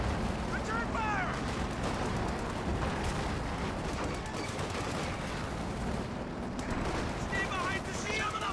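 Gunfire and explosions in Company of Heroes 2, a dense continuous battle din of rifle and cannon fire with booming impacts, under speech throughout.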